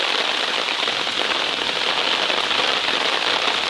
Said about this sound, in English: I'm going to shelter in place until this rain quits.